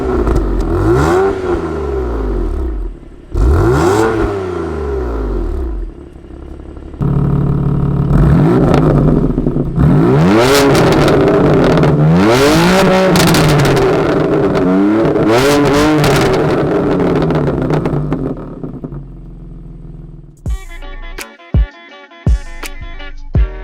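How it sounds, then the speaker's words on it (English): A 2018 BMW M3 Competition Package fitted with Remus exhaust tips revs up repeatedly, loud and close, with rising and falling engine pitch across several throttle blips and a sustained run. A few sharp exhaust pops follow near the end, with no talk. "the car that I bought comes with Remus exhaust tips, so it just looks a lot better, and the sound is so much better too"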